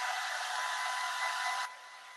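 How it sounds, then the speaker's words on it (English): A hair dryer blows steadily at close range, a continuous loud broadband whoosh that drops to a lower setting near the end, used to dry paint on a figure; no voices. "So I'm going to use a little bit more the hair dryer."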